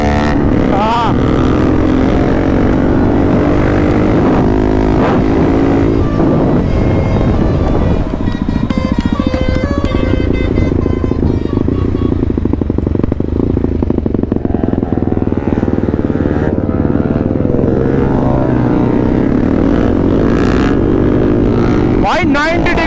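A group of hyper bikes fitted with full system exhausts rides together, giving a loud, continuous engine drone that rises and falls while riders talk over it.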